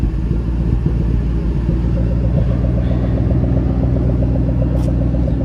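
A 2013 Ford Shelby GT500 engine idles with a deep, steady rumble right after starting, close and loud with a throbbing low-end pulse and no talking.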